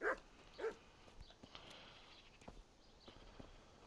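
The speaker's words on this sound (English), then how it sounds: "woof woof to you too, doggo" Dog in the medieval video game Kingdom Come: Deliverance barking twice near the start, a couple of sharp nearby woofs, then quieter scattered footsteps and small sounds with no talking.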